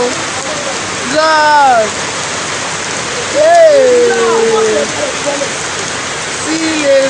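Heavy rain pours down steadily in Lagos during a flooding downpour, a dense continuous wash of water noise with excited voices calling out over it.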